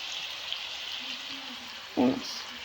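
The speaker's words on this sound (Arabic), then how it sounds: "حمست المعجون هيك حمسة بسيطة حتى ما يحترق" Tomato paste fries with chicken pieces in a pan for Iraqi red chicken tashreeb, giving a soft, steady sizzle with a brief louder clatter near the end and a voice speaking quietly over it.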